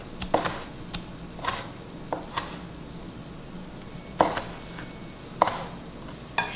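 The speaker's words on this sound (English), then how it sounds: "We're going to give them a rinse and then cut them in quarters." A knife cuts cherry tomatoes into quarters on a cutting board, making irregular sharp taps and thuds close by, spaced by short pauses, with no one talking.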